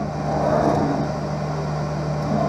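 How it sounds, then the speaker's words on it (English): A lens edging machine shifts from its cutting wheel to its bevel wheel, giving a steady mechanical motor hum with a fixed low drone that holds evenly throughout. "it's going to move to the bevel wheel to get the V-shaped bevel"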